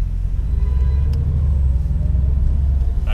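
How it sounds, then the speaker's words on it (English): A Camaro SS hybrid cruising in town, its electric powertrain whirring over the low, steady burble of the V8 exhaust, a close, constant rumble. "there is a definitive whir from the electric powertrain, but at the same time, the burble, the V8 from the exhaust"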